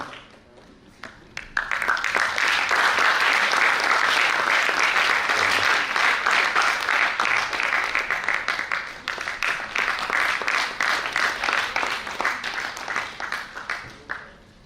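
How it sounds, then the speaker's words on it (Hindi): A theatre audience bursts into loud, sustained applause after a quiet start, many hands clapping steadily before gradually thinning out near the end. "जोरदार तालियां चाहिए।"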